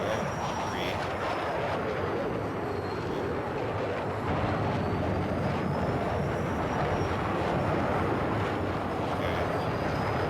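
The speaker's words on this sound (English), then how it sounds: "so afterburner L3" A jet's afterburner roars steadily in Battlefield 6, a dense, continuous engine rush that stays loud and even for the whole stretch, swelling slightly partway through.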